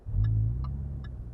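Jaguar F-Type SVR sports car engine giving a deep, low rumbling growl up close, steady and throbbing under a few faint high chirps, with no talking.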